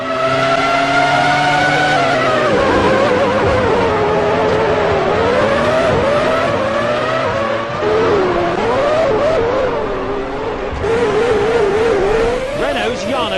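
Formula One race cars in the Formula One 2003 video game at Monaco scream past in close company, their layered engine whines sweeping up and down through gear changes, loud and continuous, with commentary speaking over them.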